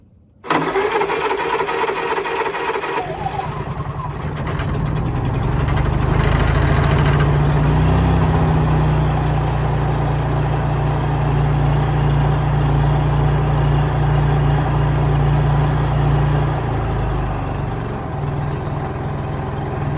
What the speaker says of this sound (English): I haven't done anything to this Honda generator in 4 years except keep the oil change and the air filter